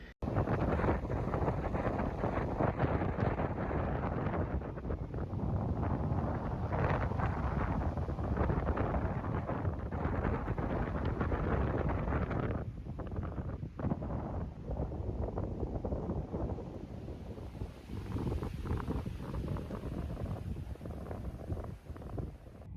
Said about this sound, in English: any second now you'll see the wind really pick up